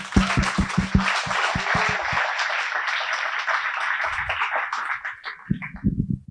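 Audience applause for startup mentors at an accelerator demo night, a crowd clapping steadily for several seconds with a broad wash of sound and some close, distinct claps at the start and end.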